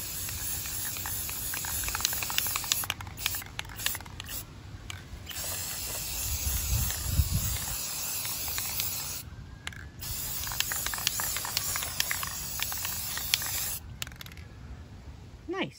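An aerosol spray can hisses in long continuous bursts broken by brief pauses as paint is sprayed onto a repurposed lawn sign, fairly quiet and close, with occasional low thumps.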